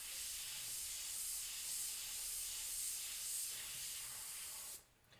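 An airbrush spraying paint for shading and highlights gives a steady, even hiss that holds for several seconds, then cuts off abruptly near the end, with no voices.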